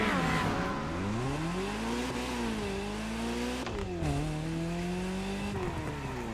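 In a video game, a Ferrari 308 with a racing build revs hard, its engine note climbing and dipping several times in a loud, sustained howl with no talk.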